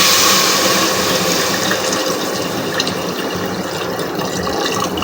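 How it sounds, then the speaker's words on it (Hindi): Water is poured into a pot of mutton gosht as a steady, close, splashing stream, loud at first and then easing slightly, with no talking. "तो अब मैं इसमें ऐड करने लगा हूँ पानी"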